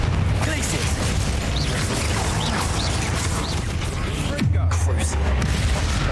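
Spell blasts and dense crashing booms from Hogwarts Legacy combat, the Bombarda explosion among them, loud and continuous with a deep rumbling hit near the end.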